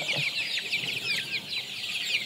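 Sonali hybrid chickens on a farm cluck and chirp in a busy, overlapping chorus, many birds close by, with no voices.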